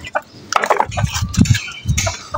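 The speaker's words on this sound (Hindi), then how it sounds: "अभी जल्दी से मुर्गियों वगैरह को खोलते हैं" Chickens, including an Aseel, cluck and squawk nearby in short bursts on a rooftop, with a rooster-like call standing out among the scattered fowl noises.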